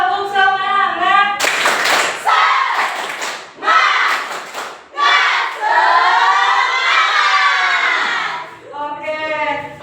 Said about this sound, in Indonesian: kita akan melakukan tepuk semangat ya